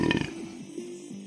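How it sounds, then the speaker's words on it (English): A single loud, close burp from someone who has been drinking beer, a low belch with a rough tonal drone that trails off over about a second. "I'm gonna burp every now and then."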